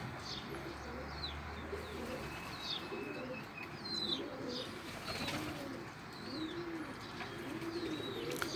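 German breed pigeons coo in a low, repeated rolling rhythm close by, with chirps from other birds, a brief flutter of wings and a quiet voice in the background.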